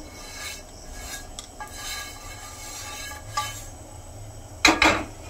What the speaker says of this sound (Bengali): আর এটা একটু ভিজে কাপড় দিয়ে পরিষ্কার করে নেব